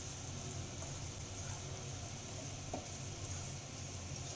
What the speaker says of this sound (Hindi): फिर हम काजू बादाम जो हमने कटिंग करके रखा है वो हम इसमें थोड़ा सेकेंगे